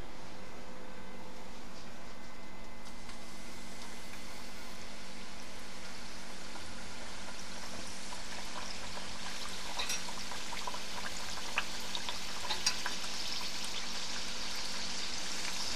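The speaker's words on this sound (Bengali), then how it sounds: "এখন আমি আস্তে আস্তে নিমকিটা দিয়ে দিব তেলের মধ্যে" Pieces of nimki dough fry in hot oil, giving a dense, even bubbling hiss close by that runs steadily throughout and grows slightly brighter later. No one speaks.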